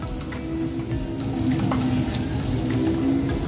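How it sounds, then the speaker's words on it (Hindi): Spicy fire chaap being stirred in a pan with garam masala and fresh coriander, a steady close sizzle with stirring scrapes that swells slightly toward the end, no talking. "आधा चम्मच गरम मसाला और थोड़ा हरा धनिया, इसको मिक्स कर लेते हैं"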